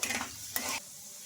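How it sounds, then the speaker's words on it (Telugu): Garlic cloves frying in hot oil, a close crackling sizzle with a couple of quick stirring scrapes, fading to a softer hiss at the end. "ఈ వెల్లుల్లి రిబ్బలు కూడా కొంచెం బాగా ఫ్రై అవ్వాలి"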